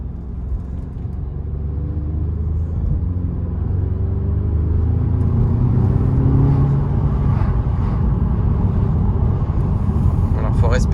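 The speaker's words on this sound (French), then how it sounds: "J'ouvre un petit peu la vitre pour que vous puissiez entendre l'échappement." An Audi S3 310 hp's low exhaust rumble rises steadily as the car accelerates, heard from inside through a slightly open window with a steady road drone.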